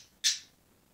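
A single sharp pet bird squawk or chirp, brief and bright, rising suddenly from a quiet room and fading quickly.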